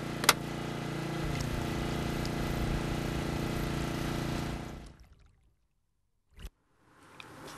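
A generator powering a Grundfos SQ Flex pump runs with a steady, broad engine drone, then cuts out into near silence, broken by a couple of brief knocks.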